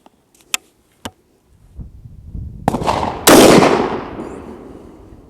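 A CVA Scout takedown rifle chambered in .450 Bushmaster fires one shot at a 50-yard range, a single loud, sharp blast with a rumbling echo trailing off after a few faint clicks of handling.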